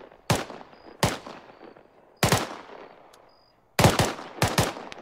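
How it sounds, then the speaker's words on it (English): Gunfire in the military shooter game Arma 3: five loud, sharp bursts of shots spaced across the moment, each with a short echoing tail, and no talk. "Oh, shots from the northeast."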